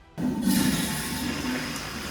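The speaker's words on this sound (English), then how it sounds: "There are outdated plumbing systems in some of our boys' bathrooms where the urinals flush all day, every day." A school boys' bathroom urinal with outdated plumbing flushes after a brief quiet moment, releasing a steady, full rush of water that carries on evenly without any voices.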